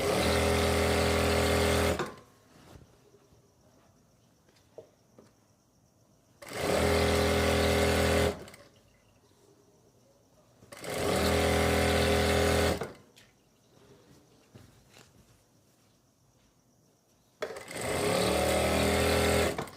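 Sewing machine stitching a seam on palazzo pants, about 1.25 inches from the edge: four loud, close bursts of rapid whirring stitches, each around two seconds long, separated by quiet pauses with small handling sounds.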